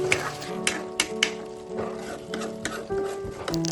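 Chicken with green chillies and curry leaves stirred in a pot over a medium flame, giving repeated scraping taps and soft clatter at an uneven rhythm, close and moderately loud over a faint hum.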